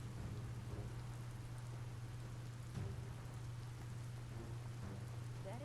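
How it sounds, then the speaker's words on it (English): Steady rain hissing across the whole span in the Biomutant video game, an even wash of sound with a low constant hum beneath and one brief louder patter midway. "It's raining, yet there's fire."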